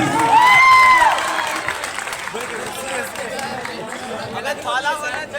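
An audience at a PW seminar claps and cheers with a broad, steady wash of applause and crowd chatter that stays loud throughout, while a tonal whistle or voice rises briefly at the start.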